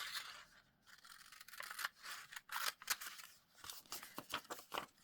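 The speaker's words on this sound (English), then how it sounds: "let's cut the coupon bit out" Scissors snip paper while a coupon is cut out for a collage, giving a run of quick, close crisp cuts with short pauses and light rustling between them.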